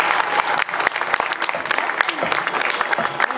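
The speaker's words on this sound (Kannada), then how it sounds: "ದಯವಿಟ್ಟು ಮತ್ತೊಮ್ಮೆ ಜೋರಾಗಿ ಚಪ್ಪಾಳೆ" An audience claps loudly at a Laya Vadya percussion concert, dense continuous applause with no break.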